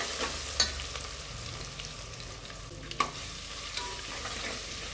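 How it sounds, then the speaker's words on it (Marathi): Bay leaf and whole spices sautéing in oil in a pan for a paneer vegetable biryani, a soft steady sizzle close by, broken by a couple of sharp clicks of a spoon stirring against the pan. "छान परतून घ्यायचं."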